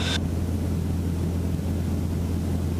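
A small propeller airplane engine gives a constant low drone with a steady hum, close and loud, running without change as it idles or taxis after sunset.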